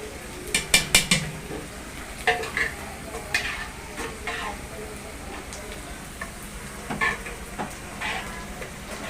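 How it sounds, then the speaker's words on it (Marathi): A metal lid clatters onto a pot of rice steaming on a home stove, giving a cluster of sharp clinks near the start, then scattered lighter utensil taps over a soft sizzle. "आपण आपल्या भातावरती झाकण ठेवूया"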